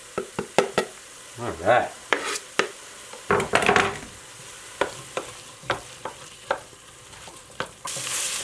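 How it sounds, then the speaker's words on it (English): Pancetta for a Bolognese sauce sizzles in a hot pan, punctuated by repeated sharp scrapes and knocks of a utensil stirring it, with a brief spoken word partway through. "Now the next step is to add that pancetta that I talked about."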